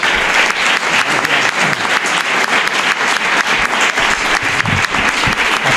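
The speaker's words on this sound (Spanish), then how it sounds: "yo pido un gran aplauso a Juan" A big, loud burst of sustained crowd applause for an award winner at the Isla Cristina Carnival, dense continuous clapping from a large audience that fills the whole stretch without speech.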